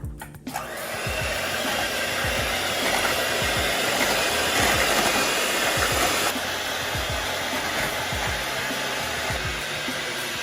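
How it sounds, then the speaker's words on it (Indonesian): An electric hand mixer runs at medium speed through pumpkin pie batter, a loud steady whir that kicks in after a brief start and drones on evenly, with faint tapping and scraping against the bowl underneath. "kita akan mixer dengan kecepatan sedang ya"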